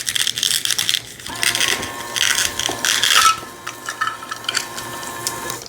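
A toy knife cuts through plastic toy food pieces held together with Velcro, producing close, loud ripping and crunchy tearing bursts in several short runs, with light plastic clatter between.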